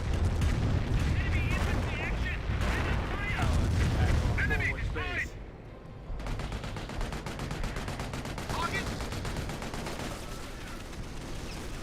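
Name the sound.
rocket barrage in video game Company of Heroes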